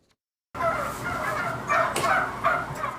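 Roughly eight thousand male turkeys gobbling inside a Minnesota farm barn, a loud, continuous chorus of overlapping gobbles that starts abruptly after a moment of silence, with sharper bursts standing out.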